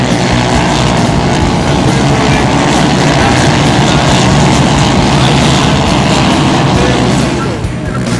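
Go-kart engines roar loud and unbroken at a sunny, crowded karting race in Bragado, a dense, close, high-revving drone that never lets up and masks any talk nearby.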